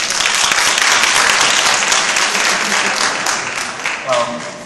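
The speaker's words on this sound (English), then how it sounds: "That's obviously reflected in the rousing applause that we got." Rousing applause fills a school redistricting community meeting in Atlanta, dense clapping from a large crowd that holds strong and then gradually thins, with a voice briefly emerging near the end.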